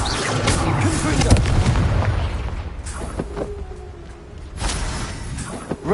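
Spell explosions in a Harry Potter video game, several booming blasts and bursts over a dense rumbling game soundtrack, loud and close.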